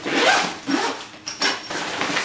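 Zipper pulled closed along a large Mission Workshop backpack with coated water-resistant zippers, three quick rasping strokes close up.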